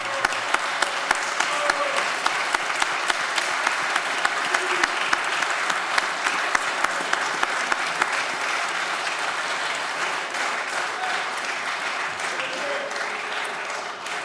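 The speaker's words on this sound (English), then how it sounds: "they deserve another standing round of applause together with their staff" Sustained standing ovation in a state Senate chamber, honoring members and their staff: dense, steady clapping from many people that holds at an even level for the whole stretch, with only faint crowd murmur beneath.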